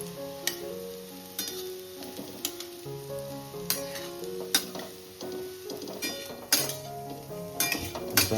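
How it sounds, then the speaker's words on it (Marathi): Crushed jackfruit seeds fry in hot ghee with a steady sizzle, while a spoon scrapes and clinks against the pan in repeated close stirring strokes. "आता चला आपल्या आट्यांचा क्रश मस्तपैकी तुपामध्ये फ्राय करून झालेले आहे"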